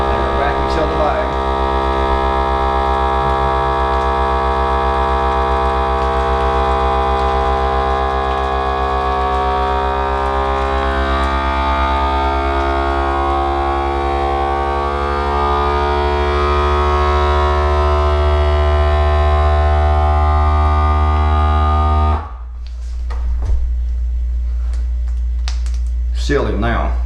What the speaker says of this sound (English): It vacuumed all the oxygen out, or all the air out, and now it's sealing the bag.